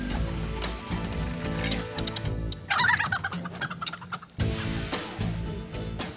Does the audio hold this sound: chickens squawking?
yes